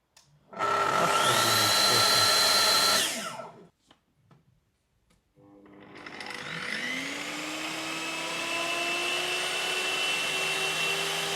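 A Holzmann plunge saw with a Festool dust extractor attached. A loud motor runs for a few seconds and cuts off, then after a pause another motor winds up gradually in a soft start and keeps running steadily, with no talk.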